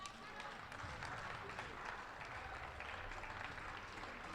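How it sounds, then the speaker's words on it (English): A crowd at a girls' U16 indoor soccer cup final applauds steadily, with scattered clapping and arena noise carrying throughout and voices mixed in. "the crowd applauses the effort from both squads"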